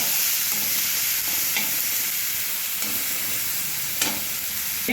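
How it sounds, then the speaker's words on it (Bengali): Ginger, garlic and green chilli paste fries with spices in a pan for crab bhuna, a steady close sizzle broken by a few scraping stirs, with no one speaking. "এবারে আদা, রসুন আর কাঁচা লঙ্কার পেস্ট দিয়ে দিলাম। মশলাগুলো সব একসঙ্গে ভালোভাবে কষে নেব।"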